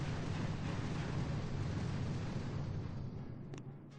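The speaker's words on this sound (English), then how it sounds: "Let's do our barrage right there." An artillery barrage hits in the video game Boom Beach as a loud, continuous roar of overlapping blasts that rumbles for about three seconds, then fades and ends with a brief pop.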